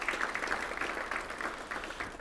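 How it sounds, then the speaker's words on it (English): Brief, faint round of applause from a breakfast audience at a council district event, soft scattered clapping heard at a distance, steady for a couple of seconds. "Round of applause for Port San Antonio."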